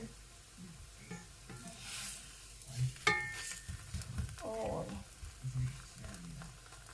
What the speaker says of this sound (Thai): ไฟอ่อนๆเนาะ ทอดนานๆมันจะได้กรอบ